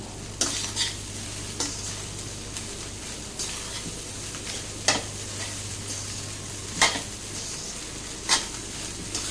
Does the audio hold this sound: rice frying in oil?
yes